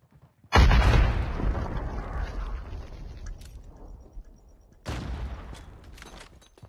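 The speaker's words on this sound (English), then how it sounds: "we blew it up. We blew it up." A grenade explosion in COD Mobile's DMZ Recon mode lands as a sudden loud blast that rumbles and fades over several seconds, then a second, weaker blast follows.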